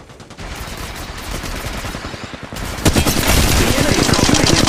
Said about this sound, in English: I am taking fire, friends. Opening fire on the enemy.